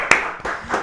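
A few claps from a small studio audience welcoming guests on a TV show, one sharp clap followed by a couple of softer bursts, brief and close.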